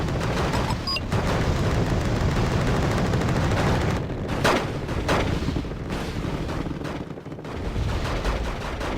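Weapons fire in a Wargame Red Dragon multiplayer battle: dense, loud, continuous gunfire and artillery booms with sharper single shots cutting through, no speech.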